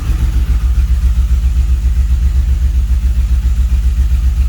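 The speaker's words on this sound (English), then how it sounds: "She's idling at just under 900 RPM, a little bit high" A 1981 DeLorean DMC-12 engine idles just under 900 RPM, slightly high. Its loud, steady low rumble runs close and alone, with no talk.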